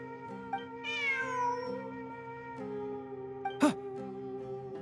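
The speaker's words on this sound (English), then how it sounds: "Look, a cat." A cat in Genshin Impact gives a clear, rising meow, then a short sharper chirp, heard close over a steady sustained musical backdrop.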